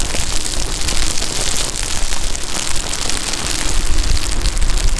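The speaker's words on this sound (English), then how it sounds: "Ooh, it's raining." Steady rain pours down during an Inmotion V14 electric unicycle rain test, a dense, continuous broadband hiss with no clear breaks, loud and close throughout.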